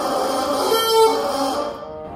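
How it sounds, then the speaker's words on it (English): A bassoon double reed blown on its own gives a thin, buzzy, coarse tone held for about two seconds, fairly steady and close, then fading out abruptly. "I blow air through the reed, a double reed like the oboe, which by itself has a coarse, weak sound."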